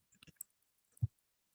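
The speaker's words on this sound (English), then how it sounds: "So I'm just typing a few notes here." A few quiet, scattered clicks of typing on a computer keyboard, followed after a pause by one heavier key thump, faint and close in an otherwise silent room.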